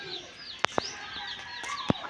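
Small chicks calling near a rural home garden, soft high peeping and chirping with a few sharp louder chirps, faint and close, with no talk.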